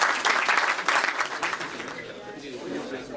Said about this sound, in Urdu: میں کمیونٹی سے گزارش کروں گا کہ میاں صاحب کے لیے بہت ساری تالیاں بجا دیں